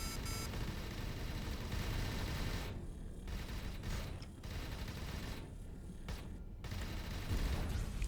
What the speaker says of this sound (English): Sorry about the torpedo noises.